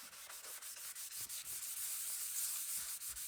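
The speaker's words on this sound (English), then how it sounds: "And just start sanding that down" Close, quiet hand sanding of lacquer with 600-grit paper, no block: rapid rhythmic rasping strokes of fine paper rubbing back and forth over a surface.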